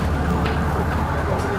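An ambulance siren sounds as the vehicle arrives on scene at a police arrest in a British street, a loud steady wail mixed with engine rumble and background noise.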